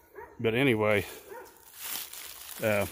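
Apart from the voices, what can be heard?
neighbors' dogs barking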